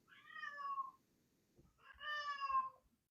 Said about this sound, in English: That's just my cat talking